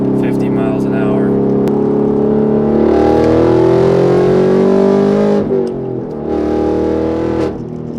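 A 2017 Chevrolet Camaro SS engine revs and accelerates hard from inside the cabin, a steady loud roar that climbs in pitch and dips briefly near the end, with people talking over it.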